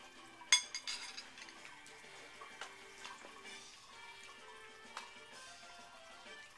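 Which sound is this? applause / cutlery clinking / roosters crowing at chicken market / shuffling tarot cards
cutlery clinking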